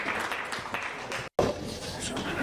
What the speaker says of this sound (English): let's give these amazing candidates a big round of applause